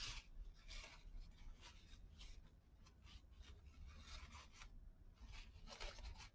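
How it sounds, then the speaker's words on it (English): Bone folder rubbed firmly over cardstock to press out excess glue, a soft dry scraping in repeated strokes, quiet and close with no voices. "I'll use my bone folder to get out all the excess glue, and it pushes it down better"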